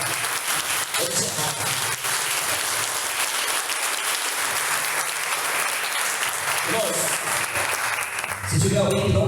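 A church congregation applauds during a service, loud sustained clapping filling the room before a voice comes in near the end.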